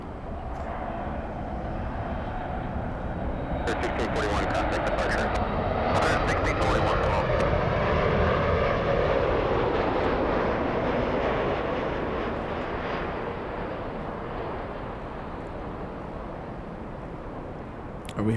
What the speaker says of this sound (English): flying behind All Nippon is Japan Airlines 16 from Haneda